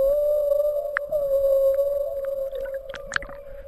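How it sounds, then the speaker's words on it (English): Humpback whale song: a long, steady, eerie tonal moan that holds a sustained pitch throughout, joined by brief higher squeals and chirps toward the end, with no voices present. "Humpback whale. Their haunting songs echo for miles, deep, eerie,"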